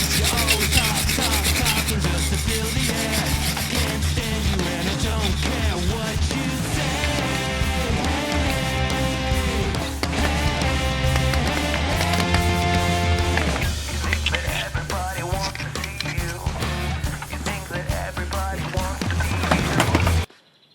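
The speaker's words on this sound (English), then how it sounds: "So I will just try to brush off loose paint flakes." A brush scrubs loose paint flakes off the rusty axles of an Iveco 4x4 overlander truck, a continuous rough rubbing and scraping under loud background music.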